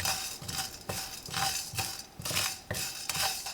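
Red Sichuan peppercorns are stir-fried dry in a wok over low heat, a regular rhythm of about seven scraping, rattling strokes of a spatula against the metal, close and clear with no voices.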